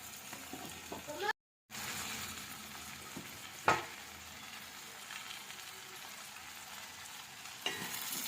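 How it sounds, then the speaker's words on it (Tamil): Chopped brinjal, potato, carrot and beans being sautéed in a pan for sambar, a faint continuous sizzle with a couple of sharp stirring clinks along the way. "இதோட சேர்த்து வதக்கி எடுத்துக்கலாம் இந்த காய்கறியை."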